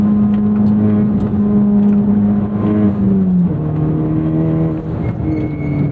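Turbocharged engine of a 2024 Honda Civic Type R (FL5) pulling steadily while driving on a road, a loud, continuous near drone with a sustained tone that drops in pitch partway through, then steadies.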